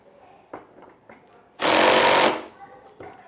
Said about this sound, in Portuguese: o parafuso conseguiu entrar um pouco mais na madeira, fazer mais pressão, mas chegou a um ponto que ele abriu a catraca de novo